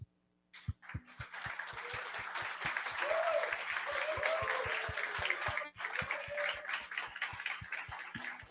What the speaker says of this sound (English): So again, a round of applause.